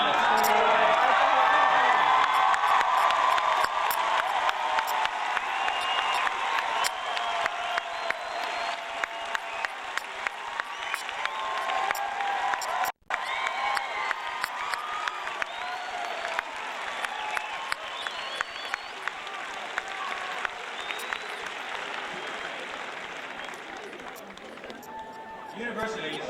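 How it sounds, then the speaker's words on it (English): At a 2001 university graduation ceremony, the audience gives a long, sustained round of applause. The loud clapping runs steadily throughout, with scattered voices mixed in. "give a warm round of applause"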